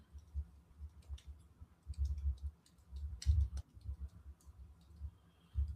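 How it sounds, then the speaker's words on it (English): Light keyboard typing, faint scattered key clicks in short irregular bursts over a low background rumble, with no one talking. "My typing skills need to get better."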